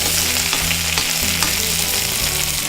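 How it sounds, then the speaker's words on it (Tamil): Mint leaves sauté in hot oil for chutney, a steady close sizzle with faint stirring scrapes running unbroken throughout, no voices. "நீங்கள் எந்த சட்னி செஞ்சாலும் முதல்ல இந்த மாதிரி இலையாக இருக்கிறத நீங்கள் வந்து எண்ணெயில் வதக்கி எடுத்துக்கிட்டால்"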